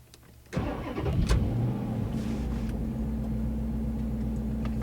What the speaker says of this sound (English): That's such a brute V8 engine.